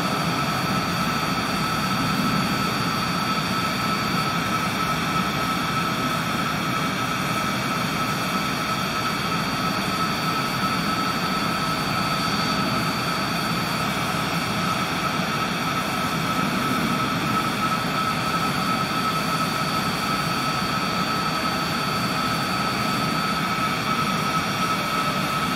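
A steady, even aircraft engine drone inside a small plane on a short flight toward Grand Rapids Airport, constant and close with a continuous hum and no speech.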